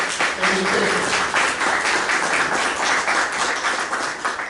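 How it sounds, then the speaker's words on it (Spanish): Dense, steady applause from an audience at a book presentation honouring a professor, continuous clapping filling the room with faint voices beneath. "Un doble aplauso, por favor, al profesor."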